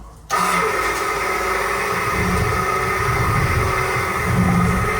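An electric pump in a Jeep Cherokee Latitude's 4WD system starts abruptly when current is applied, then hums and whirs steadily and loudly close by with a faint rattling undertone.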